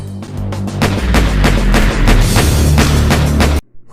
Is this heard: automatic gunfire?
yes